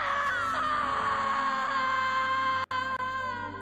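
A long drawn-out scream rings out in the horror adventure game Harvester, loud and sustained with a wavering pitch for about two and a half seconds, then cuts off sharply with a brief later click.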